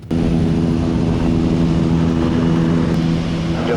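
A fixed-wing propeller airplane on the runway before takeoff, with a loud, close, steady engine drone and a propeller hum that holds evenly throughout.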